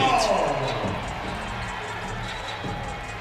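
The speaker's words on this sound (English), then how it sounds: "A second block of the game, and that got this crowd on their" Basketball arena crowd at a women's college game, Kentucky versus Florida, roaring and rising to its feet after a blocked shot, a broad sustained cheer that starts loud and settles into steady noise with announcer talk over it.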